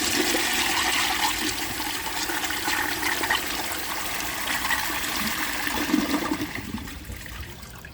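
A 1934 Bowers Pottery toilet flushes with a steady rushing wash of water and a slow siphon, trickling and gurgling throughout, heard up close with no talking.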